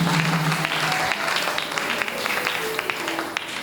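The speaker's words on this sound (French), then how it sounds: "Acclamons encore très très très très fort pour nos visiteurs." Church congregation at a worship and thanksgiving service applauding visitors, a sustained wash of many hands clapping that fills the room with steady, dense energy throughout.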